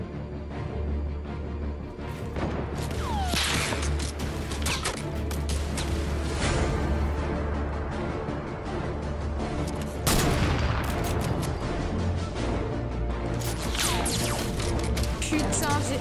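Repeated gunfire from blind shooting in a battle-royale style video game, loud bursts and blasts spread across the clip over a constant game soundscape, with occasional speech.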